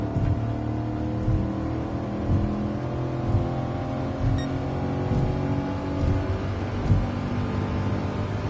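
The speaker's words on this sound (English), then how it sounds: "140 miles an hour, I'm going to redline it." A Camaro SS engine in GT Sport, racing in Tokyo, drones steadily at high revs near redline in fourth gear, with a loud, sustained harmonic hum and a few small surges.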